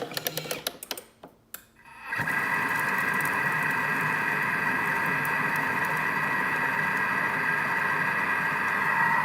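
A Thermomix starts after a few light clicks and runs at speed 3 in reverse, holding a loud, steady mechanical whir for about seven seconds.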